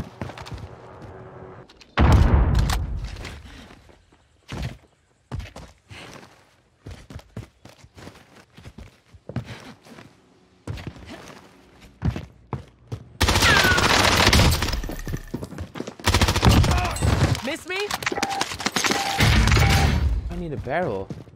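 Gunfire from an OTS 9 submachine gun in the Warzone video game, with scattered thuds and footsteps followed by two long, loud sustained bursts of rapid automatic fire near the end.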